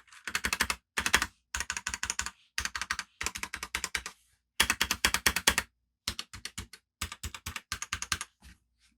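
Bursts of clicky keystrokes from a Royal Kludge RK84 mechanical keyboard, typed in quick rhythmic runs separated by short pauses, close and clear with no talking.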